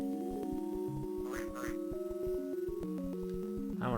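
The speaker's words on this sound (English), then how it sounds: "I don't want to fuck with these geese." Geese honking in a video game, a couple of nasal quacking calls rising over a busy, steady backdrop of game music and sound effects, with a person talking over it.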